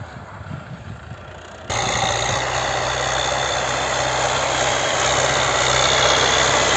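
A tractor's engine with a turbocharger runs steadily while cultivating a barley field, a loud continuous drone that jumps sharply louder partway through and then holds level, with no talking.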